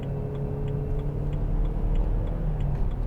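A 2008 BMW 320i M Sport two-door with a 2.0-litre engine pulls under throttle, heard from inside the cabin as a steady, close, low engine drone with faint ticking on top.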